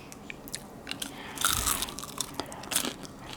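Loud crunchy bites into stale, hard air-fried crinkle-cut french fries from a Wolfgang Puck air fryer oven, close up, with a dense burst of crackling midway and smaller crunches around it, no talking.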